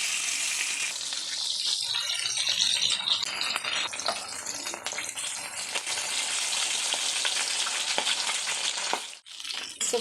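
Fish rubbed with salt and turmeric frying in butter and oil in a pan, a dense continuous sizzle and crackle with scattered pops and rattles, close and fairly loud throughout, no talking.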